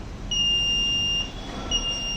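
A buzzer sounds when a crack is detected on a railway track in a monitoring setup. It gives a shrill electronic tone, one long steady beep, then a pause, then another tone starting, close and clear with no talking.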